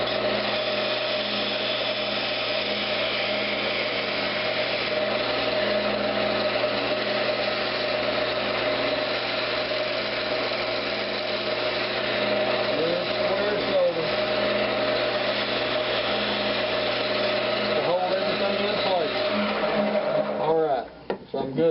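Wood lathe spinning a Brazilian cherry blank while a skew chisel squares it, a steady motor hum with faint scraping, ending in a brief rattle as the cut stops.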